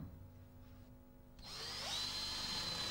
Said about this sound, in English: using the Snappy countersink bit to drill the hole and the screwdriver bit to complete each fixing